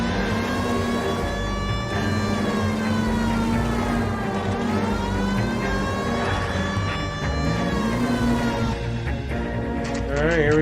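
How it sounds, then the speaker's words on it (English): A wailing police car siren in the video game L.A. Noire, sweeping steadily up and down with loud overtones across the whole stretch, joined near the end by a brief burst of other noise. "I guess my siren's on"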